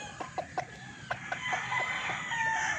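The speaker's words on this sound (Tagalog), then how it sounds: "Ganda nitong manok na to, oh." Gamecocks from fighting-breed stock, a Raptor and an Arayata bulik, cluck in short repeated bursts and then break into a drawn-out crow, nearby and fairly loud, with no talk.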